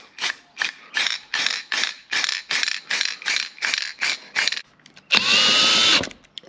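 Power screwdriver driving drywall screws into a Mercedes Vito van, heard as a close series of about ten short, rhythmic whirring bursts followed by one longer, louder continuous whine.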